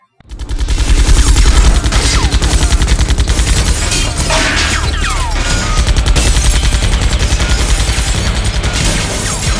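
Continuous heavy gunfire rattles in the video game Xenosaga 2, a loud dense rapid-fire barrage sustained throughout with booming impacts layered beneath.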